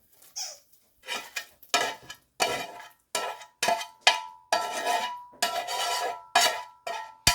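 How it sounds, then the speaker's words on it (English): Hamburger meat goes into a pot of boiling stew liquid and is worked with a utensil, giving a series of short, loud clanking scrapes and knocks against the metal in irregular bursts, with no talking. "Add the hamburger."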